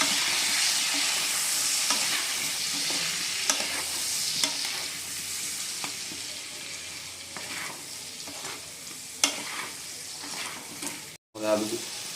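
Kashmiri red chilli and turmeric powder fry in hot oil, a steady close sizzle with scattered stirring scrapes and clicks across the whole stretch, briefly cut near the end.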